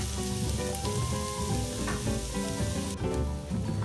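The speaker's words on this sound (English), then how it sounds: "Add our olive oil and let our onions get glassy inside. Onions come together with the garlic." Onions and garlic sizzling steadily in olive oil in a skillet over medium-high heat, a loud, continuous crackling fry with no pauses.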